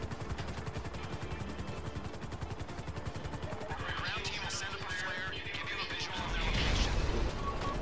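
Rapid automatic gunfire rattles steadily in a video game firefight, a fast rhythmic stream of shots with engine drone and crashes layered beneath, a heavier rumble swelling near the end.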